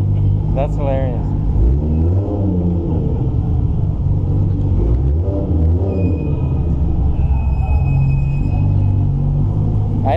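A Porsche Carrera GT idles nearby with a deep, steady rumble and a few brief revs, while people talk excitedly over it.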